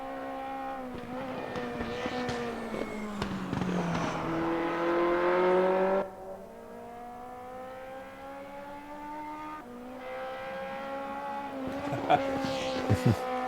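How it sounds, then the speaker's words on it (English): A race car engine in a championship race screams at high revs and shifts gear, its pitch climbing and dropping, with sharp crackling backfires bursting out near the start and again toward the end. "You can hear all the backfires."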